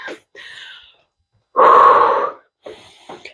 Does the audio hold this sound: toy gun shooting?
no